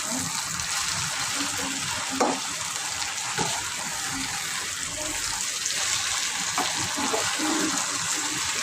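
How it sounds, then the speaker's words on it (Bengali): Okra (bhindi) frying in a pan, a steady bright sizzle running throughout with occasional stirring clicks and scrapes, close and fairly loud, no voices standing out. "আর এখানে ভেন্ডি ভাজি করা হচ্ছে"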